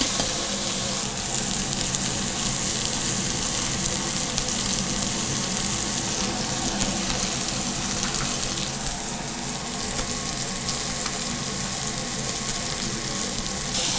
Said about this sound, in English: I cooked a steak in a cast iron skillet.